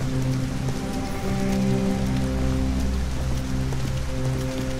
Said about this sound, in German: Regnet es hier immer, das ist ja wie ein Heavy Rain.